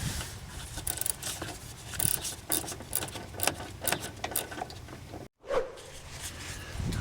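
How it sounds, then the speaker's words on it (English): A 1/4-inch ratchet on a 3/8-drive extension adapter turning a 10 millimeter bolt on a 2003 Honda Element during a headlight bulb change, giving continuous close clicking and ratcheting with brief scrapes and one short pause. "I'm using a 1/4-inch ratchet with a adapter because I didn't have enough extensions"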